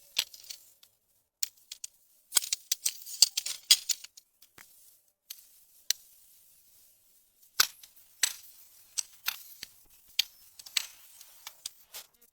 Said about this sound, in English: Snap, click, and connect the poles.